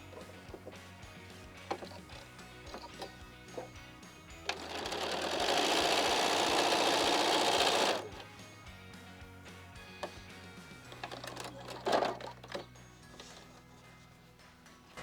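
A sewing machine runs steadily for about three seconds mid-clip while stitching a curved quilt seam for a pieced block, loud and continuous, with quieter handling and fabric shuffling before and after.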